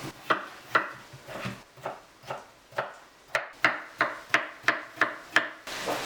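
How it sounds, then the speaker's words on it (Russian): A knife chops potatoes into cubes on a wooden board, about fourteen crisp, close knocks, slow at first and then quickening into an even rhythm. "Картофель также кубиком нарезаем."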